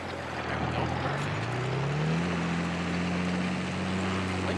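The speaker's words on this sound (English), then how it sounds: "I like the way this tractor sounds really good." A tractor engine in Farming Simulator 22 drones steadily while pulling a cultivator, its low hum rising slightly in pitch as it picks up speed, with a broad rushing noise over it and no talking.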